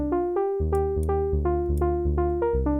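A warm synth patch with random oscillator tuning enabled, playing a steady sequence of sustained notes over a deep bass, with a few brief bright clicks near note changes and no voices.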